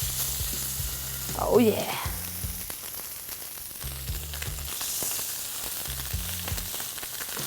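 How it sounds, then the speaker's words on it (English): Steaks sizzle in olive oil in a pan, a steady close frying hiss with soft crackles, while a low voice murmurs briefly under it. "And then I'm gonna put my steaks in."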